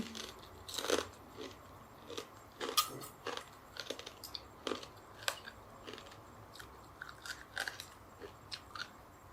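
Close, loud crunching bites of crispy pork rinds eaten with spicy Thai papaya salad with crab and fermented fish, sharp brittle cracks in an irregular rhythm of repeated chews.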